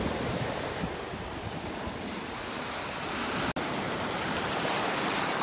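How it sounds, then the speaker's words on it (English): Surf at Dragon Bay Beach in Grenada washes continuously over the rocks, a steady hiss and rumble heard close by with some wind buffeting the microphone and a brief dropout midway; no voices. "the waves just like made a sound over all the rocks"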